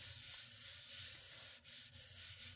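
Paper being rubbed by hand onto an inked print block, a close, steady dry scraping and rubbing that continues without pause for a few seconds.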